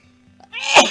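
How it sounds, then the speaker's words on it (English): A short, explosive sneeze bursts out close to the microphone after a brief quiet breath. "I think I'm about to sneeze."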